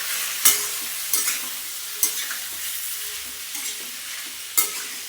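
Mango pieces and jaggery being stirred in a pan, a steady soft sizzle with a few sharp scrapes of the spoon against the metal spread through the stir, no voices.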